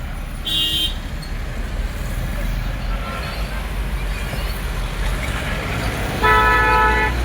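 Jammed road traffic in Kolkata near metro construction: a steady engine and road rumble with short car horn toots near the start and a longer, louder honk at the end.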